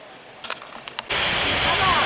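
A roaring waterfall at Fall Creek Falls surges in abruptly as a loud, steady broadband rush, following a second of quieter ambience with a few soft knocks.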